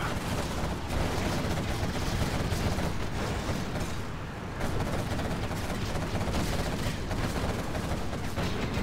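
Chain guns fire in a China versus GLA match of Command & Conquer Generals Zero Hour, a dense, continuous rattle of gunfire and battle noise that keeps going with only a brief dip partway through.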